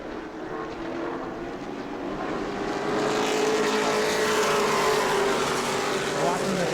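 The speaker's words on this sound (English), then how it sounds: "as they roar by on the back" Race cars roar past on the back stretch at New Smyrna Speedway, engines building from a distant hum into a loud, sustained multi-car roar with pitch sweeping as the field passes.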